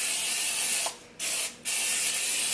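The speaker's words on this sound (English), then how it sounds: "I'm gonna spray this with a lot of cooking oil" Cooking oil sprayed from a can onto taquitos in two steady hissing bursts, each lasting about a third of a second, close by, with no talking.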